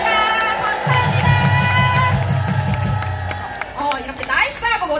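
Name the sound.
crowd clapping at a protest for police officers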